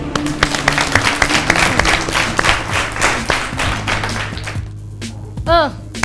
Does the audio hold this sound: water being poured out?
no